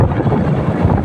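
Strong amihan wind roars steadily across a moving vehicle with its roof removed, a loud, continuous low buffeting rush against the microphone with no break across the whole stretch.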